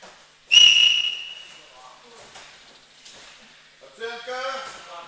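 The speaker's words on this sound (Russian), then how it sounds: "Нет, свисток, просто свисток." A referee's whistle blows at a school wrestling match: one sharp, shrill blast that fades out, then a second, shorter and softer whistle toward the end, heard in a quiet hall.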